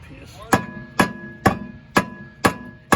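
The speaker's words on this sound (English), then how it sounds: "You got the hammer of Thor" Evenly spaced hammer blows ring out on a 2015 Scion tC rear brake, six sharp metallic strikes about half a second apart with a bright lingering ring.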